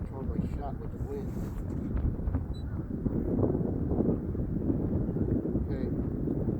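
Strong outdoor wind roars and buffets the microphone steadily throughout a high-wind airgun shooting session at 120 yards, a dense low rumble with no clear breaks.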